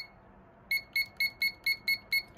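A timer being set emits a run of eight short, evenly spaced electronic beeps, sharp and close, starting after a brief quiet pause with no talking.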